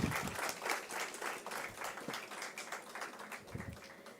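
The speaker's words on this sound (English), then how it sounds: "Let's put our hands together to applaud all the winners." Audience applauding the winners at an undergraduate degree distribution ceremony in Bengaluru, a soft crowd of hand claps rising and falling, fairly faint and distant, with no talking.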